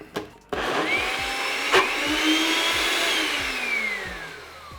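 A blender runs loudly on potatoes and carrots, starting with a short burst, then a steady high whir that rises and falls in pitch as the thick mixture churns, alone without voices.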